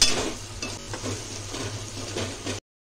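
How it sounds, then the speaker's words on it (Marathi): Drumstick pods frying in hot oil with spices, giving a steady soft sizzle with light stirring and scraping against the pan throughout, close and alone, ending abruptly. "शेवग्याची शेंग तेलामध्ये फ्राय करून घेऊया।"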